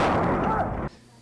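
A police officer fires a gun at a fleeing suspect's reversing car during an arrest, heard as a loud, close, sustained blast of gunfire that cuts off abruptly, leaving a quiet tail.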